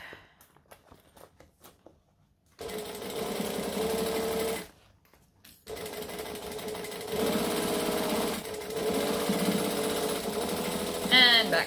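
A domestic sewing machine stitches steadily around the curved seam of a bowler bag, loud and close, running in two long bursts with a short pause between and a few quiet handling taps at the start.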